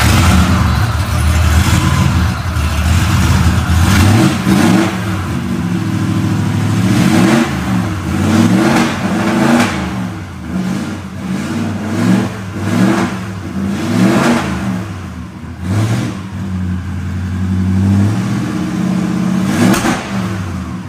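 A twin four-cylinder supercharged car engine revs repeatedly, its loud rumble rising and falling in a steady series of throttle blips for about twenty seconds, with no talk over it.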